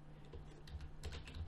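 Quick, soft keystrokes on a computer keyboard, a faint run of light clicks tapping out in an uneven rhythm, close by and quiet.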